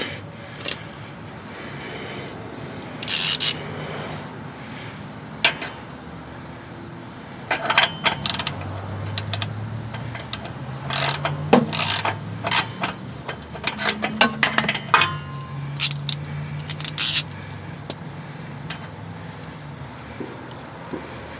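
Ratchet wrench tightening an oxygen sensor on a car being fixed for a P0420 catalyst efficiency code, giving scattered short metallic clicks and ratcheting bursts of varying loudness over a low background hum, with no talk.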